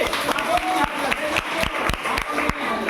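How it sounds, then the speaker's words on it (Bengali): Schoolchildren clap loudly at a school celebration of West Bengal Day, a quick irregular patter of many hands close by, with voices talking through it. "জোরে হাততালি।"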